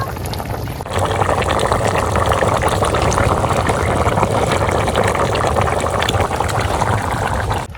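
Fish slides into a pot of boiling water for a curry, followed by a loud, dense, steady bubbling and rushing churn that continues close up without a break.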